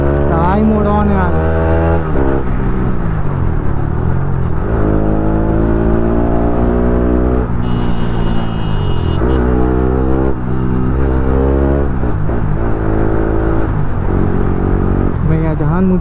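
A KTM Duke 250 motorcycle engine revs hard and repeatedly while drifting, loud and close, with the pitch sweeping up and down in bursts throughout and no voices over it.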